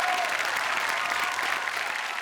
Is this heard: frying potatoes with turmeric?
no